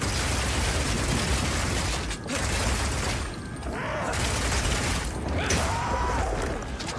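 Continuous mechanical clatter and rapid bursts from crossbow reloading with Rapid Shot in Path of Exile 2, with dense ratcheting and popping that briefly dips before resuming loudly.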